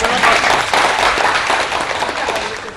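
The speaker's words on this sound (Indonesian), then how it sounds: "Tepuk tangan dulu." An audience at a live Batak artist talk show applauds in a brief, dense burst of steady clapping, loud and close, easing slightly toward the end.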